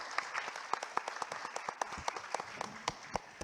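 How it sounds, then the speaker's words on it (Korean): Applause at an academic conference session welcoming a university statistics professor as discussant; scattered, distinct claps from a modest audience, fairly quiet and without talk. "큰 박수로 환영해 주시기 바랍니다"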